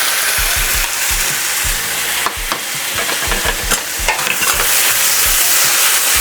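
Ginger garlic paste and gochujang stir-fried for an alligator stir fry, with a loud, steady sizzle broken by repeated scraping and clacking strokes of a utensil against the pan, alone without talk.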